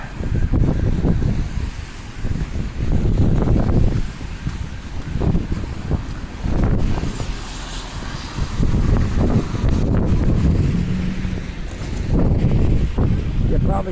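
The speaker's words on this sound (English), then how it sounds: "Probably can hear that wind." Strong wind gusts roar against the microphone on a city street after a big snowstorm, a heavy low rumble rising and falling in waves with a person speaking at times under it.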